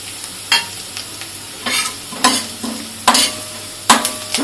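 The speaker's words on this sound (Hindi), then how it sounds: "और अब हम इसमें डालेंगे ये राई" Mustard seeds spatter in hot oil for tempering masala rice, a low steady sizzle punctuated by several sharp, loud pops and crackles at irregular intervals, close up with no talk.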